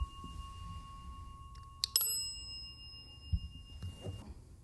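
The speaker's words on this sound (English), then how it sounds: "what you need to do is hit this bell so we know you're here." A service bell on a historic hotel's front desk is struck once, giving a sharp bright ding with a long ringing tone that fades slowly, heard alone against a quiet room with faint shuffling.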